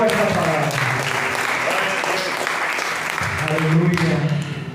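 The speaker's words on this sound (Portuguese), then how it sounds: "aplauda ao Senhor" Church congregation applauding during a Portuguese-language worship service, a steady wash of clapping sustained throughout and mixed with voices and a preacher talking over it.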